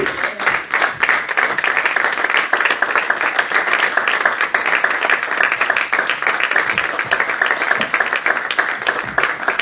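A church congregation at a French-language prayer service claps steadily and loudly, a dense, continuous wash of many hands applauding throughout, with a few voices faintly mixed in.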